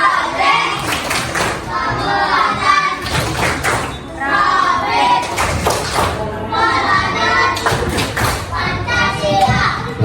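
A school class of children performs a rhythmic clapping routine in the classroom, repeated sharp claps in patterned groups mixed with children's chanting voices throughout.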